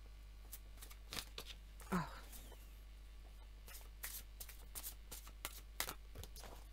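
Lenormand oracle cards handled close by, with a run of soft, brief slaps and rustles spread over several seconds and a low steady hum beneath; a voice speaks briefly at one point.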